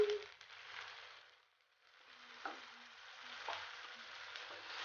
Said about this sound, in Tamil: வெங்காயம் இஞ்சி பூண்டு பேஸ்ட்லாம் நல்லா வதங்கிடுச்சு.